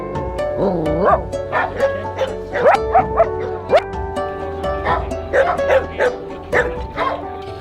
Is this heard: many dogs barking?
yes